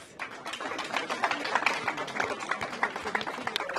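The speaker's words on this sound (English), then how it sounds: "Can we give her a round of applause?" A small audience at a book launch claps for Professor Gaston, steady scattered applause rising and holding at moderate level, with some voices mixed in.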